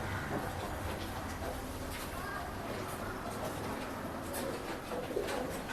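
Male Guldar pigeon cooing in a pet and aquarium shop in Bangalore, low repeated coos under a steady busy background hum and faint indistinct voices.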